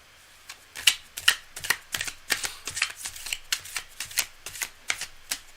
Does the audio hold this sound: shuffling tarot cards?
yes